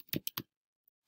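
Computer keyboard keys being typed: three quick, close clacks in a row, a silent pause, then one more sharp keystroke, all up close with no talking.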